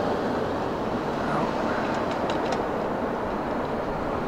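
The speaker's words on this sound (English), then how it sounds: "The second train that you just saw go by, that is the CSX" A CSX freight train rolls past at night in a steady, loud broadband rumble with a few faint clicks of wheels, and no voices.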